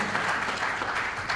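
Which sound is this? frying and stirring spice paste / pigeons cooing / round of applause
round of applause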